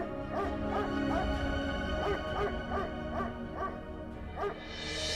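Repeated barks and yips from a dog come in a quick series of roughly nine sharp bursts, near and clear, with a faint noise swelling at the end and no speech.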